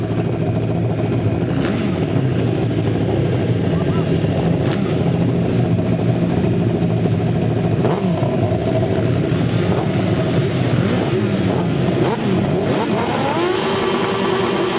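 Several 1000cc racing sidecar outfits rev their engines at the start of a grasstrack race heat, a loud, continuous mechanical roar with rising and falling revs and overlapping engine whines, close by with no speech.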